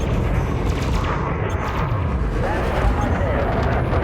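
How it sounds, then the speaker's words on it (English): Railgun fire in space combat in the Elite Dangerous: Horizons video game, heavy booming blasts within a loud, dense wash of continuous battle noise. "He keeps coming at me with the stupid railguns"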